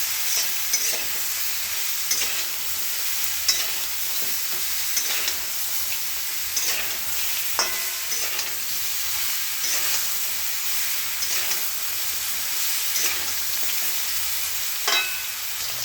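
Pointed gourd (potol) frying in a pan with salt and turmeric, a constant bright sizzle broken by repeated scraping and stirring clinks, close and continuous with no talking.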